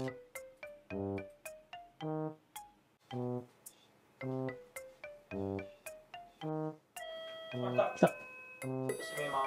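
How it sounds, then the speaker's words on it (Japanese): A home doorbell chimes repeatedly in a cheerful multi-note pattern while a new refrigerator is being delivered, the rings clear and fairly close, followed by household clatter and movement. "もうそろそろピンポンってなると思います。"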